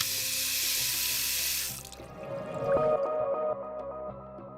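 Water gushes from a tap into a hospital surgical scrub sink along a hallway, a loud steady hiss that cuts off partway through, leaving drips, splashes and hollow clinks from the basin.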